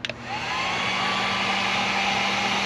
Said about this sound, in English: this is a Harbor Freight heat gun, so we heat shrink them to keep them insulated